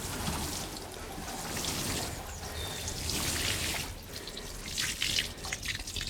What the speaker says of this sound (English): Let's water them in